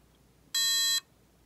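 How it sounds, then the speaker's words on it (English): A vTech Precomputer 1000 sounds its error beep after a wrong key is pressed: a single sharp electronic tone lasting about half a second, loud and close against a quiet background. "If I press H, it'll beep."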